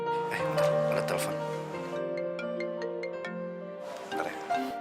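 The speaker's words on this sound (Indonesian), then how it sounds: "Bentar, ada telepon." A phone rings with a repeated electronic tone in a romantic Indonesian TV drama, heard under and between music and nearby conversation.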